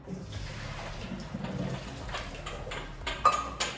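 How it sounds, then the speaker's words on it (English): Cooked spaghetti is strained, and water pours and splashes steadily down a drain, with a few light clinks of a pot near the end. "Okay, so we go. Strain it."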